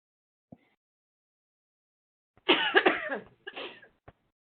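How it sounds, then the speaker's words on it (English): A few close, harsh coughs in quick succession from a person recovering from bronchitis, after a quiet stretch, with faint clicks before and after. "y'all will hear me coughing every now and then"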